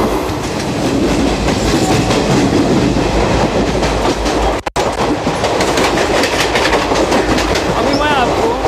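Garib Rath Express between Mumbai and Jabalpur running at speed, a loud continuous rumble with rhythmic clickety-clack of wheels on rail joints heard from inside the coach, with one brief dropout midway.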